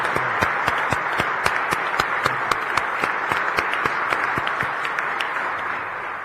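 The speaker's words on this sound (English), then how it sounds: "Let's give him a round of applause and thank him for that." Applause at an official government announcement event, made of sparse, distinct hand claps that ring out close and irregular over a soft wash of crowd clapping, fading slightly at the end.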